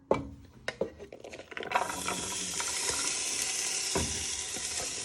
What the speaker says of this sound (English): you want to start frying all your vegetables, your onions, garlic, chilli and ginger